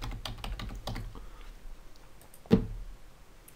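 A web search is typed on a computer keyboard as a quick run of soft, close keystrokes, then a pause and a single louder key press, probably Enter, with no voices.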